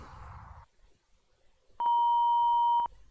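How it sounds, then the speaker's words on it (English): Concorde cockpit alarm in the FlightGear flight simulator: a steady electronic two-tone beep holds for about a second after a stretch of quiet, loud and close, with no talking. "Kill those alarms."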